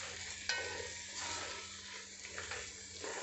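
Prawns fry in a pan for prawn biryani while being stirred. A steady, close sizzle runs throughout, broken by a few scraping stirs, with no talk.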